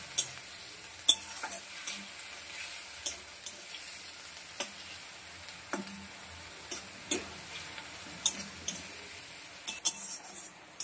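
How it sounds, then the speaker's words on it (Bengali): Onions fry in oil in a pan, a soft sizzle broken by sharp, irregular clicks and scrapes of a utensil stirring, close and fairly quiet with no talking. "পেঁয়াজটাকে ভালো করে কষাবো তেল ছাড়া পর্যন্ত।"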